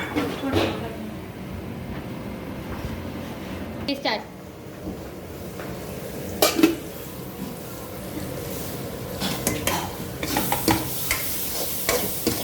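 A Kerala-style prawn roast sizzles gently in a pan, a soft steady frying hiss with occasional clinks and scrapes of a spoon, while a person talks over it.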